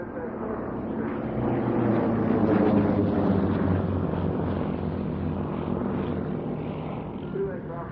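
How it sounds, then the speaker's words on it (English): Display aircraft performing at an air show and pulling up, a loud continuous engine roar that swells and holds steady, with a commentator talking over it. "pull the aircraft up into a wing"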